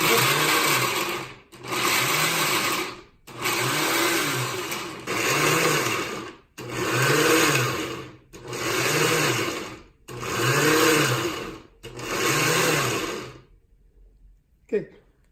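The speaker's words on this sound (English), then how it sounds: "Okay, so the blender starts after a few cycles." A kitchen blender grinds ingredients for a five-ingredient chutney in loud, rhythmic pulses of about a second each, eight in a row with short gaps, then stops, leaving a faint clack at the end.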